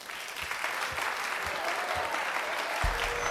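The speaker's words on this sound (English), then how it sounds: "Give her another round of applause, ladies and gentlemen." Sustained audience applause at a children's talent show performance in an animated comedy, dense steady clapping filling the whole stretch with no voices over it.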